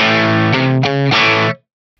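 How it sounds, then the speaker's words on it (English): A dry, close electric guitar amp tone from a Fractal FM9 processor: distorted sustained chords strummed three times, with no room ambience, then an abrupt cut to silence. "It sounds exactly the way a close mic'd amp would sound with no room reflections."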